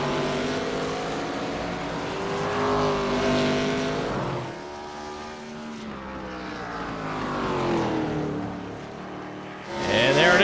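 Race cars on the final lap at the Bull Ring racetrack roar loudly through the corners, engine pitch rising and falling as they pass close by and accelerate off the turn.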